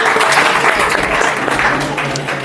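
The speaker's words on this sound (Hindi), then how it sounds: "फिर भी ताली बजाओ उसके लिए।" Steady applause from a group, continuous clapping throughout with no voices over it.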